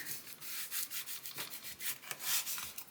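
A tool rubs rapidly back and forth, burnishing a glued panel down onto a leather folio, producing close, quiet scratchy strokes in a steady fast rhythm with no talk.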